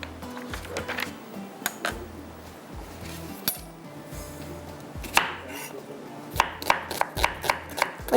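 Onion being chopped finely with a knife on a board, irregular thuds early on that turn into a quick run of close, sharp cuts toward the end, with faint talking in the background.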